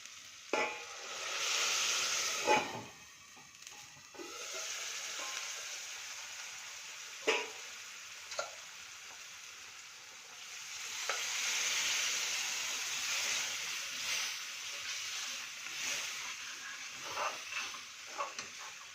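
Steady hissing sizzle of cooked dal added to a hot pan for Gujarati dal dhokli, with occasional sharp clinks and scrapes of stirring.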